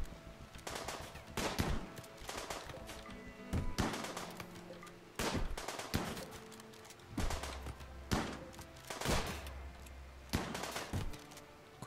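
Gunfire crackles through a Rimworld colony invasion, sharp shots arriving in irregular bursts and single cracks, some doubled, over a low game hum.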